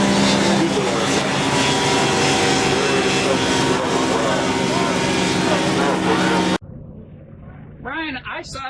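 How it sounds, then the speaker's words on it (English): A small aircraft comes in to line up on a runway at Oshkosh, with a steady, loud engine drone that cuts off abruptly and gives way to a quieter stretch where a voice is heard. "as our planes are coming in, lining up on our runway"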